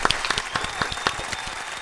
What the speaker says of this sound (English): Get this man a round of applause.